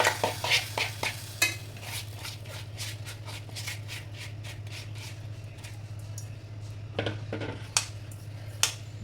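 Rice for biryani stirred in a pot: rapid scraping and clinking strokes at first, then a quieter stretch over a steady low hum, with a few more sharp clinks near the end.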